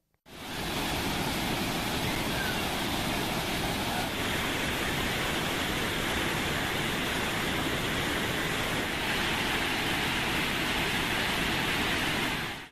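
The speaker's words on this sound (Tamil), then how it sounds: "ஐந்தருவி சினி ஃபால்ஸ் மெயின் அருவி உள்ளிட்டவற்றில் தண்ணீர் ஆர்ப்பரித்து கொட்டுகிறது" The Hogenakkal waterfalls on the Kaveri river pour with heavy flow, making a dense, constant roar of rushing water that stays loud and unbroken from start to finish, with no voices.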